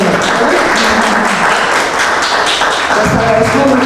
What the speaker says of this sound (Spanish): Démosle otro aplauso.